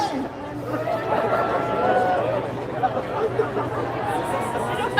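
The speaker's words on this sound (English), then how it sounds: "The crowd down here is chanting, we want to crash" Crowd chanting and cheering at the Red Bull Soapbox race in Edmonton, a dense outdoor babble of many voices with rhythmic chant fragments and shouts.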